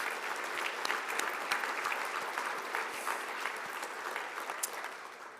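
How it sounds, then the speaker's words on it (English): Sustained applause from an audience at an awards ceremony, a steady dense patter of many hands clapping at an even level throughout. "a nice round of long-distance applause"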